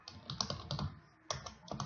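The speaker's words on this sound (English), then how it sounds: "click on this and start typing" Quick bursts of typing on a computer keyboard, close and fairly quiet, with clustered clicky keystrokes, a short pause near the middle, then more rapid keys, with no talk.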